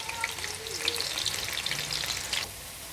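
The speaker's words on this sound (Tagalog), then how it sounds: "Ayan po, ginigisa ko muna siya" Chicken sautéing in a pan for chicken curry, a steady close sizzle and crackle of hot oil with light stirring scrapes, ending with a brief drop in the frying noise.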